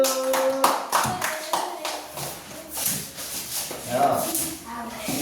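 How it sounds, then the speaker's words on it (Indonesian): A class of schoolchildren clapping for a group, uneven bursts of clapping mixed with chatter and some rustling in a classroom. "Yuk, berikan tepuk tangan untuk kelompok 1."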